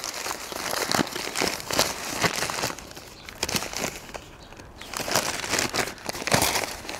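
Sheets of Mail on Sunday newspaper crumpled and torn by hand, close and crackly, with repeated bursts of rustling and ripping in uneven rhythm and short pauses between handfuls.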